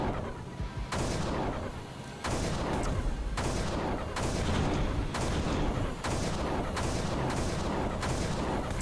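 Sustained gunfire aimed at a tank in a video game sounds as a dense, loud stream of rapid shots, broken into bursts by sharp attacks roughly every second, with no voices.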